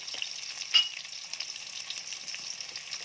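Garlic and white onion sauté in a pan for cheese sopas, giving a quiet, steady sizzle with small crackles and one sharper pop of stirring near the start.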